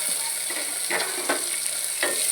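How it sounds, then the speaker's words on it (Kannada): Onion, green chillies, tomato and curry leaves frying in a pan for ridge gourd palya, a continuous close sizzle with a few distinct scraping stirs. "ಒಳ್ಳೆ ಮಾಡಿ ಫ್ರೈ ಮಾಡಿ."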